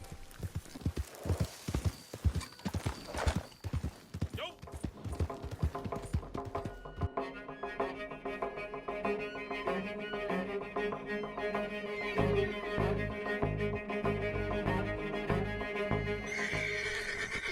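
Horse hooves clip-clop in a quick irregular rhythm as a mount sets off in the Red Dead Online video game, with a whinny early on, then a steady galloping beat carries on under game music.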